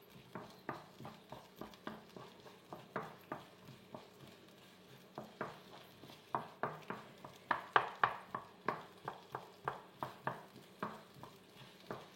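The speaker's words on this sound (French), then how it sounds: "c'est faire revenir mes oignons et mon ail" Onions and garlic sauté in a pan for snails in tomato sauce. A utensil stirs them in a quiet, steady rhythm of scraping taps over a faint sizzle.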